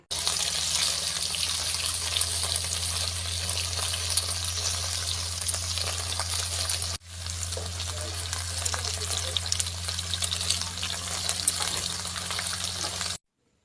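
Cut okra frying in hot oil in a pan over high heat, a steady loud sizzle and crackle that runs unbroken, with a momentary break midway before continuing, no voices.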